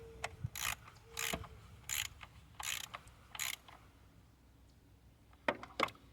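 A ratchet wrench tightening bolts on a Ford Windstar engine, with bursts of close, rapid clicking repeated at roughly even intervals, then a pause and two final quick ratcheting bursts.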